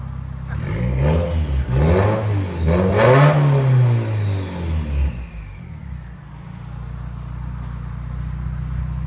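A 2015 Subaru WRX with a 2.0L turbo engine and straight pipes revs up close, climbing through several rising and falling swells before settling back to a rumbling idle.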